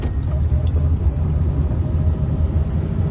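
A 1970s Austin Allegro engine rumbles from inside the cabin as the car gains speed, a steady low drone with slight pulsing and no voices.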